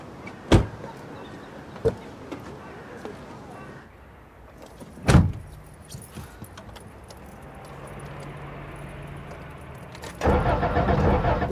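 A car is cranked but won't catch: key jangles and sharp clicks, then a long struggling whir of the starter that never settles into running, ending in a louder burst of noise.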